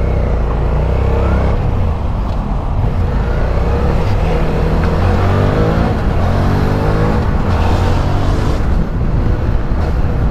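SVT 650X motorcycle with a new exhaust, its engine droning steadily and loudly while ridden through traffic, with rising and falling revs and heavy wind rush, no voices.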